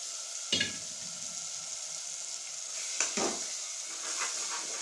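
Mutton mixed with curd and coriander leaves frying in hot oil for a wedding-style mutton curry, a steady soft sizzle with two clattering stir strokes, close and unaccompanied by speech.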